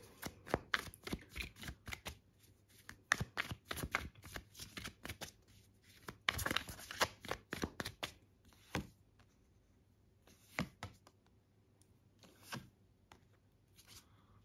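Tarot cards being shuffled and drawn by hand: quick riffling and flicking bursts, with soft snaps and slides of the deck coming in clusters and brief pauses, close and quiet.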